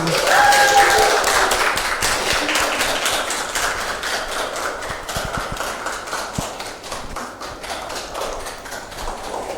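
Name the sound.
classroom clapping hands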